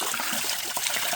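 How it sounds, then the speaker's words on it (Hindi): A village spring spout pours water with a steady, close, broadband rushing and splashing that holds constant throughout, alone with no talking. "धारे में उतना पानी तो नहीं है, हल्का सा कम हो गया है।"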